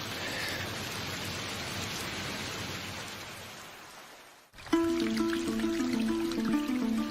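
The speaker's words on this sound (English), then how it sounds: "It's proper tropical rain and the first downpour in almost a week." Steady heavy tropical rain pours down for several seconds, a dense hiss of drops on surfaces, then cuts to a busier mix with tonal sounds over the rain.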